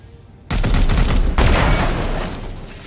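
Gunfire in the video game Warhammer 40,000: Chaos Gate Daemonhunters, a sudden loud burst of rapid shots that starts abruptly after brief quiet, then a second heavy blast and a sustained roaring volley that slowly tapers off.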